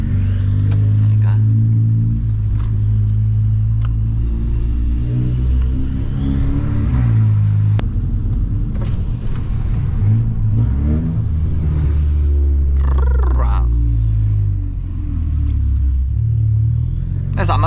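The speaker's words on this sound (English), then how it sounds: "that car sounds fruity. Car sounds sick coming through here" Volkswagen Scirocco engine while driving, a steady low rumble with rising and falling revs from inside the car, heard under ongoing talk.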